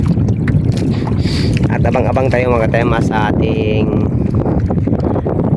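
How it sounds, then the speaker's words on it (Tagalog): Heavy south wind buffets the microphone in a steady roar on open water aboard a fishing boat, with someone speaking over it partway through. "Malakas ang hangin mga katamas, hangin na timog."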